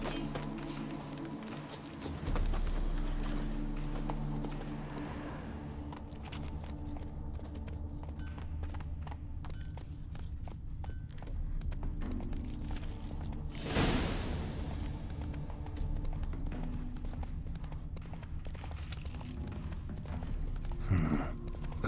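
The horse Roach trots in the game The Witcher 3, a steady clip-clop of hooves under ambient game music and swishing effects, moderately quiet throughout.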